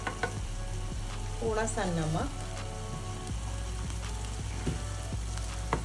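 Turmeric powder and salt being stirred into a sizzling pan, a steady frying hiss with scraping strokes of the spoon, while someone speaks briefly over it.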